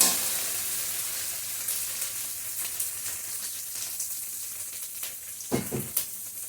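Tomatoes hit a hot pan and sizzle loudly, then settle into a steady crackling fry with a few stirring clatters near the end.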